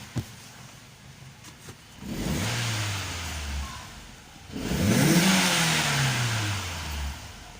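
A 2001 Fiat Marea's engine idles, then is revved twice, each rev rising in pitch and falling back, the second one louder, heard up close.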